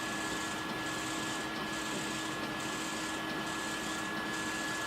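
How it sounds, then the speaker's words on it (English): 3D printer extruder grinding filament instead of feeding it, a steady mechanical whir with a thin constant tone and a repeating rhythmic pulse, close and continuous with no talk. "It's grinding my filament instead."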